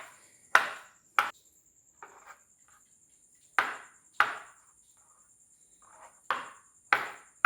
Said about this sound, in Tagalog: just cut it into cubes